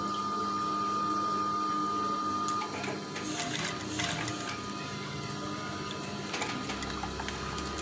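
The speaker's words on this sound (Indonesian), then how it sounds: "Kita jahit ya." Sewing machine stitching curtain swag fabric, a steady mechanical whir running close and loud, with a few brief clicks and knocks as the fabric is handled, no talk.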